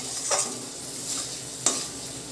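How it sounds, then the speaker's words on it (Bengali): A spice paste fries in oil in a pan for a prawn malai curry, with a utensil stirring through it in a few scraping strokes over a steady close sizzle. "তো সসটা দিয়েও ভালো করে একটু নেড়ে নেব"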